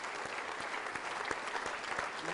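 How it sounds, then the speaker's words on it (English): An audience at a magic show applauds a volunteer, with steady, dense clapping from many hands sustained at an even level throughout. "Give her a big round of applause."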